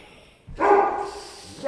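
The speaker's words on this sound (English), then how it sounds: "That's my dog, and he just saw someone" A dog indoors lets out a single sharp bark after a brief quiet moment, reacting to someone seen outside, loud and close with some room echo.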